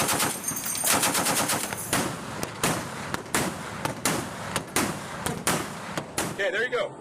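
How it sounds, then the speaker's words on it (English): US Navy .50 caliber machine gun firing aboard a warship: repeated sharp bursts of loud, cracking gunfire in an irregular rhythm, close and dominant, with a brief tail of other noise at the end. "50 caliber machine guns can still be effective against light aircraft"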